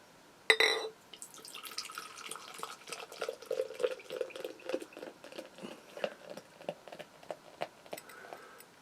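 Sonoma Pride beer poured into a glass: a brief clink at the start, then trickling liquid and a fizzing patter of small pops and drips that continue close up and fairly quiet.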